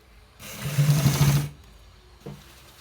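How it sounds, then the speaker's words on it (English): A sewing machine runs in one short loud burst of rapid stitching while attaching a collar to a shirt neck, then stops, followed by a faint click. "We are stitching the collar to the neck that we cut it"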